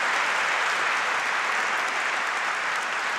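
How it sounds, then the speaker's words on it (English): Applause from an award ceremony audience, steady and dense, filling the whole stretch alone with no talking over it. "how about a huge round of applause"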